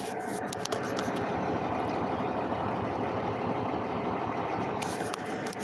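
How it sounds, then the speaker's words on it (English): An old Peterbilt truck idling close by, a low steady engine rumble running throughout with faint scraping noises on top and no talk. "Beautiful old Peterbilt sitting right next to me here. You hear it idling?"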